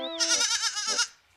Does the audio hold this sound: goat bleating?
yes